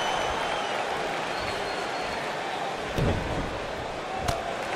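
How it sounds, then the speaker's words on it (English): A wrestling arena crowd at a women's royal rumble cheers and applauds in a dense, continuous roar, with a heavy thud around the middle and a sharp slam near the end. "Listen to this crowd."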